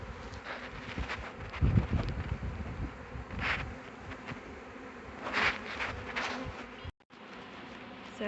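A honeybee swarm gathered around its queen hums continuously and close by, a dense insect drone with a few louder passes of individual bees and a brief dropout near the end.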